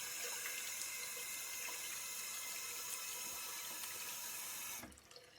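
Water runs steadily from a bathroom tap into a sink during a facial cleansing routine with an oil balm, a continuous close rush that cuts off abruptly near the end.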